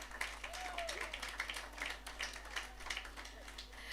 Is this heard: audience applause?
yes